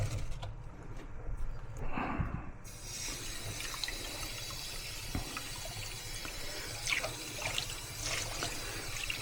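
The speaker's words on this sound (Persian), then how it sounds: "الان میریزیم توی صافی" Rice and water poured into a strainer while cooking Persian rice, a steady splashing trickle and rush of water through the mesh, close and moderately loud, with a brief heavier pour early on.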